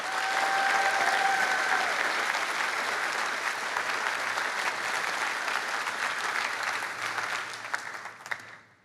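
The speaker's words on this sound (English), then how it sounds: "please join me in a well-deserved round of applause for all of you" Audience at the National Science Bowl finals closing ceremony gives a sustained round of applause, dense steady clapping that gradually thins and fades near the end.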